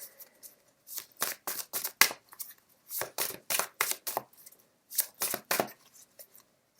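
Tarot cards are shuffled in quick riffling bursts, close and crisp, repeating in clusters with short pauses between them and no talking.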